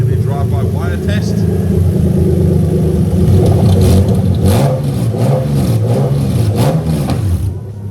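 Toyota JZ-GE VVT-i engine on a plug-and-play adapted harness, revving repeatedly under drive-by-wire throttle, the pitch rising and falling in smooth swells, loud and close, with a voice talking over it.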